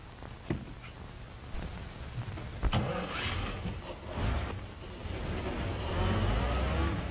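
A car engine starts and builds into a rough, rising rumble over faint hiss, preceded by a few clicks and thumps from the vehicle.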